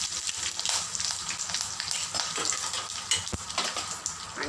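Curry leaves crackle and sizzle loudly in hot oil already tempered with mustard seeds, cumin and asafoetida, a dense steady spitting hiss with sharper pops throughout, close and without speech.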